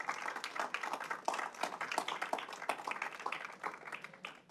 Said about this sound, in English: A round of applause for all those who received this excellent award.